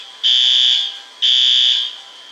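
A condo fire alarm sounds two loud, piercing electronic tones, each lasting about half a second, with a short gap between them and nothing else heard.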